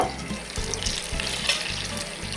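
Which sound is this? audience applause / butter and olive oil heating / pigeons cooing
butter and olive oil heating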